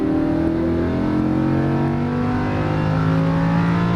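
A Lamborghini Huracan engine drones loud and close under braking and downshifting, its pitch shifting across steady, continuous engine roar with no pause.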